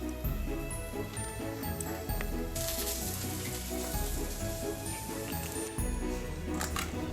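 Food in oil sizzles steadily on a hot plate in a home kitchen, a soft continuous crackle with faint ticks and clinks over low background sounds.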